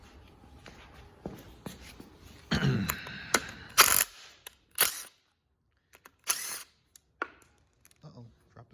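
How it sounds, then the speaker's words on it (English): A small DeWalt power drill-driver drives a screw in short bursts of whirring with clicks and taps between them, heard close and otherwise quiet. "Got the little DeWalt out right now. We'll see how well it can handle this job."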